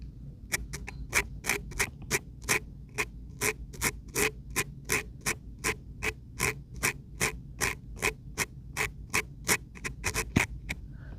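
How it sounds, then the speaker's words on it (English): Soft, rapid scraping strokes during an ASMR ear-cleaning roleplay, as earwax is scraped from an ear; about thirty short, even scratches in a steady rhythm, close and quiet, with no talking. "I'm going to scrape out the rest of the earwax"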